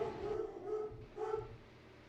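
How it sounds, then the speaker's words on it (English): Dogs bark excitedly at someone at the door, two muffled bursts of barking heard faintly in the background of a room. "as someone is at the door, and the dogs are going crazy"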